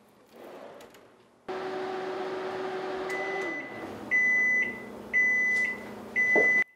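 A microwave oven hums steadily as it runs, then stops and gives a series of loud, clear electronic beeps in short repeated bursts signalling the food is ready, heard close up with no talking.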